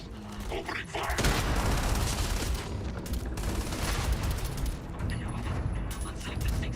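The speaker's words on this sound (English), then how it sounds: "Opening fire!" Heavy gunfire erupts after a brief lull, a sustained, loud barrage of rapid shots and booms with mechanical clatter that rolls on continuously, with a few sharper bursts near the end.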